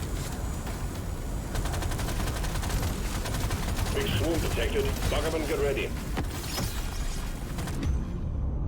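Pistol gunfire in Deep Rock Galactic Survivor crackles as dense, rapid bursts of shots mixed with game effects and chirpy pickup tones, running steadily under someone talking.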